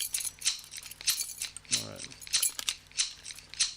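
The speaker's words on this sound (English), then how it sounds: "that's the sound of scissors." Scissors snipping in a radio studio, a quick run of light metallic cuts repeating at a fast, uneven rhythm close to the microphone, with a brief spoken word partway through.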